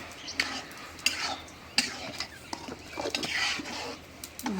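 Chopped onion, green chili, ginger-garlic paste and salt are mixed by hand in a village kitchen, giving close, soft, wet squelching and patting with light clinks of a bowl and a quiet voice.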